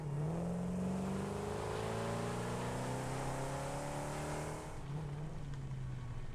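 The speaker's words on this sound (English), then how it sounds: "We can park the car here." A car driving in the game Satisfactory, a steady engine hum with slowly rising tones that shift gear near the end, heard alone without talk.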